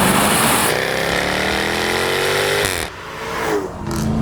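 Jaguar F-Type R engine revving hard past 3,500 RPM, a loud close roar rising in pitch, then dipping briefly and rising again as the throttle is blipped.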